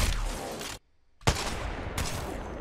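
Loud shotgun blasts from a Peacekeeper in the Apex Legends shooter game, two or three heavy booms separated by a brief silent gap, close and dominant with no talking.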